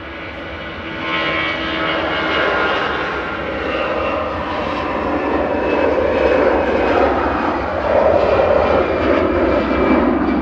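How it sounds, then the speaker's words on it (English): A 12-year-old easyJet Airbus A320 departs Manchester Airport for Malaga, its engines a sustained, loud roar that swells gradually toward the end, heard alone without talk. "G Easy Up, he said UP, heading off to Malaga with flight 2003. So 12-year-old A320 Classic."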